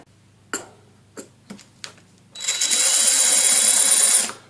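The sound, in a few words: power drill with masonry bit, rotary action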